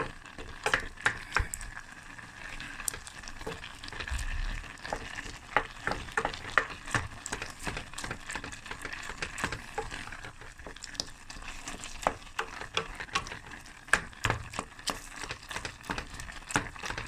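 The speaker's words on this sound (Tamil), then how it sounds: "இது நல்லா கொதிக்க இப்படி மசிச்சு கொடுங்க." A spoon stirs and mashes aubergine in a simmering white curry with whipping cream, giving a steady sizzling, bubbling crackle broken by soft scraping taps, with no talking.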